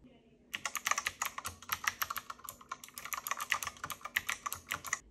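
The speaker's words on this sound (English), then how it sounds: "The keyboard itself has such a cool, funky sound that it really is so similar to a typewriter." Rapid, crisp clacking from a typewriter-style computer keyboard, keystrokes tumbling in quick bursts close to the listener with no talking.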